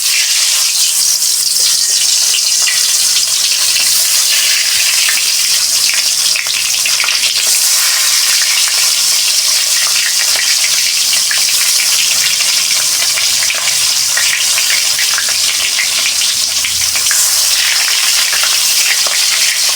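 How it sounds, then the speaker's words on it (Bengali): Fish fries in hot oil in a kadai with a loud, continuous, crackling sizzle that holds close and even throughout. "এবার মাছগুলো ভেজে নেব।"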